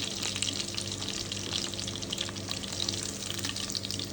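Steak frying in a pan gives a steady, quiet sizzle with faint crackles, running evenly without pause and no voices over it.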